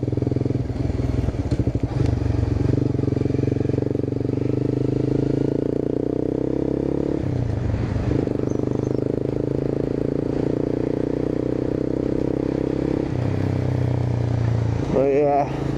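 A Honda CBR 250 motorcycle engine hums steadily and loudly while being ridden in traffic, its low drone holding throughout with slight shifts in pitch, and a voice is heard talking over it.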